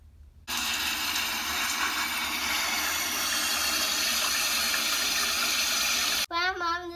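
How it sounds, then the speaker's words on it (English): Loud steady gush of water filling a large bathtub for a bath, running continuously for several seconds after a quiet start, then cut off as a voice begins speaking at the end. "girls, I'm gonna start your bath."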